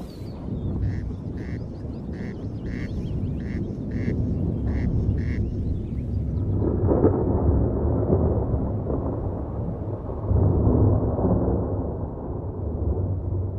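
Thunder rumbles low and steady through a storm, swelling in waves from the middle onward, after a run of evenly spaced duck-like quacks in the opening seconds.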